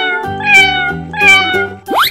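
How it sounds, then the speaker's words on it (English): A cat meows twice in clear, loud, drawn-out calls, close up, followed by a brief rising squeal at the end, with nothing else heard. "cat"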